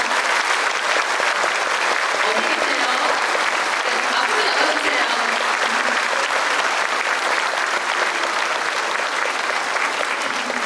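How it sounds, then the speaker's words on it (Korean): Audience applause at a cantata performance honouring Korean martyrs, given for a baritone singer: loud, dense, sustained clapping from a large crowd throughout, while a voice talks briefly over it. "박수 부탁드립니다."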